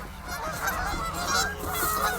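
A goose honks repeatedly near open water beside ice, the loud nasal calls close by and overlapping in an uneven series, with no voices.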